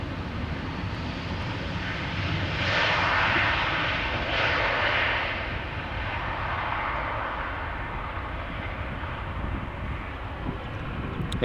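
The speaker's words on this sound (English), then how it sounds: "So here is KLM flight 758." A KLM passenger jet roars steadily at Amsterdam Schiphol Airport, its engine noise swelling a little in the middle and then holding a broad, even rumble, with some wind buffeting the microphone.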